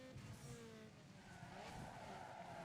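Handbrake skid in Need for Speed Underground 2, a car sliding with a sustained tire squeal over engine drone, loud and continuous for a few seconds.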